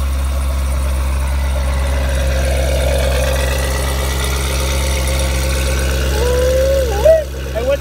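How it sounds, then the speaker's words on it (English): A 2017 Corvette Grand Sport exhaust holds a deep, loud, close idle drone, then briefly rises in a short rev near the end, while people talk over it. "listen to the exhaust. Crank it back up. I'm gonna rev it."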